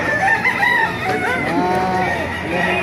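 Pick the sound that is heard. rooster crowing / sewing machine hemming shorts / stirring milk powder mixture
rooster crowing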